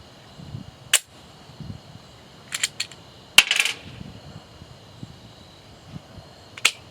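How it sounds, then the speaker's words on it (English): Rounds cycled by hand through an XDs pistol make sharp metallic clacks and rattles of the slide, four or five separate bursts spaced unevenly, close and fairly crisp against a quiet background. "take the remaining 3 rounds in this magazine and just cycle them"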